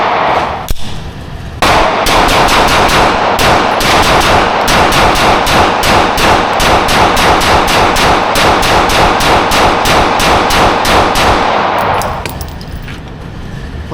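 Rapid bursts of gunfire from an FRT-equipped rifle at an outdoor shooting range, a long run of sharp, loud, closely spaced shots for about ten seconds with a brief pause near the start before the string ends.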